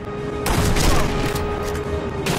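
A rifle fires in Sniper Elite V2, a single loud booming shot with a long ringing tail, set among steady battlefield noise.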